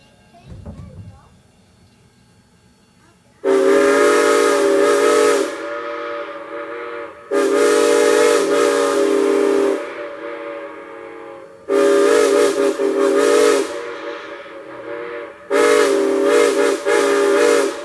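A steam locomotive's whistle on a snowy day in Lancaster, blown in four long loud blasts separated by brief pauses, a strong chime tone close by with hiss between blasts.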